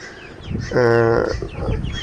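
A native village hen lets out one loud, drawn-out cluck midway, with quieter farmyard clucking and shuffling around it.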